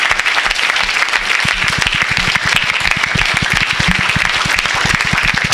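A church congregation claps in praise of the Lord, dense rhythmic applause with loud, fast, steady hand claps filling the room throughout.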